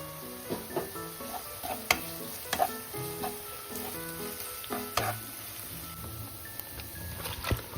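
Chicken with chopped onion and garlic sizzles steadily in a shallow-frying pan, with occasional sharp scrapes and clinks of a utensil stirring against the pan, close and without speech.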